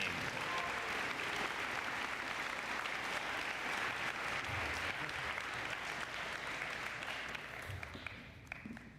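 Audience at a spring sports awards ceremony applauds the middle school swim team with continuous, even clapping that holds steady before fading out near the end.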